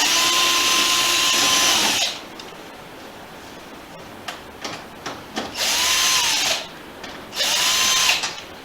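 Power tool spinning out screws from the fairing of a 2019 Harley-Davidson Road Glide Special: three loud, close bursts of high whirring, each winding down, with scattered clicks and rattles of parts between them.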